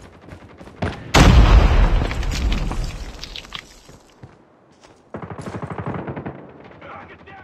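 A loud frag grenade blast bursts out in a Call of Duty Mobile ranked match, followed by rattling automatic gunfire that fades into scattered shots, with a game voice briefly speaking toward the end.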